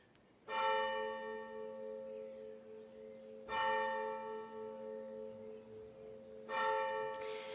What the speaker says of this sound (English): we'll be interrupted by the ringing of the bells